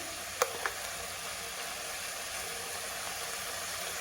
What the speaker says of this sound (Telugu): ఇట్లా ఇది ఒక 2 నిమిషాలు అట్లా వేయించుకుందాం